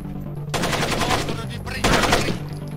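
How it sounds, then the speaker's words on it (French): Gunfire in the Splinter Cell video game, with two loud bursts of rapid automatic fire in a presidential palace level, each lasting over a second, close and sharp. "On me tire dessus."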